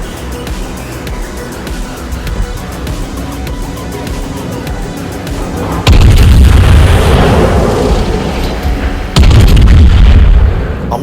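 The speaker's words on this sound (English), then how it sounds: "Let me get turned around so I can use all of the guns." Heavy main guns of a German tier 9 battleship firing in a naval video game, two loud booming salvos with rumbling decay over steady background engine and ambient noise.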